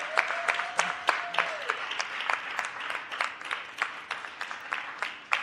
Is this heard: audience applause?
yes